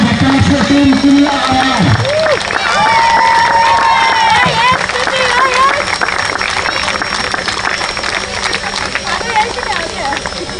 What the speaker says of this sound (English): a big round of applause for Team Kini.